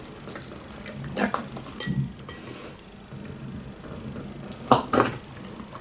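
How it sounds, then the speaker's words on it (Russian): Fork and cutlery clink and scrape against a plate while cutting baked potatoes with pork, with a few sharper clinks standing out over a steady low background, close and fairly quiet, no talking. "Наверное, надо все-таки это вилкой придерживать, чтобы разрезать там"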